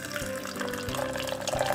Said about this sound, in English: then the last thing we need is the hot water. A little measuring jug here.